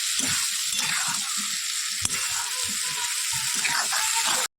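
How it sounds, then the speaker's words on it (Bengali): Crabs frying in a pan with potatoes and onions give a steady, close sizzle and hiss that runs unbroken for several seconds, with a few soft stirring scrapes and one sharp tap midway. "এবার এটাকে একটু ভালো করে ভেজে তারপরে মশলাগুলো দেবো।"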